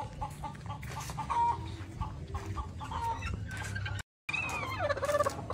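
Chickens in a backyard coop cluck and squawk nearby, with scattered calls of varying pitch over a low background rumble and a brief silent gap before more rising cackles.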